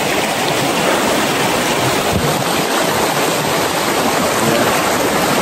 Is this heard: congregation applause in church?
no